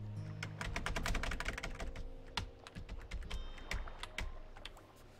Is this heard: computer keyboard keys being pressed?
yes